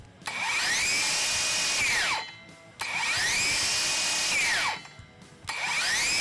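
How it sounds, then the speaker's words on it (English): A Ridgid Octane circular saw spins up to a loud high whine, then its blade brake pulls it to a quick stop; the run-and-brake cycle repeats twice, close and clear with no talking. "let's check out that blade break real quick"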